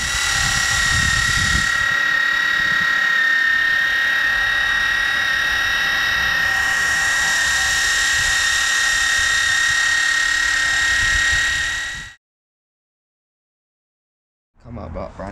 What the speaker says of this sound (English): I've got a tool actually what goes on the drill